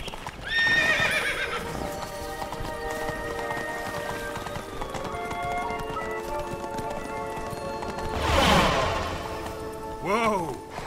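A horse in The Witcher 3 gallops with steady clip-clop hoofbeats throughout, joined by a loud whinny near the end, all set against a game music bed.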